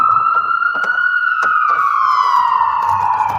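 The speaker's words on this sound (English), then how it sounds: "every siren is triggering now" A police or emergency vehicle siren passes, its wail sliding steadily lower in pitch as it goes by, loud and continuous, with sharp knocks and thuds mixed in.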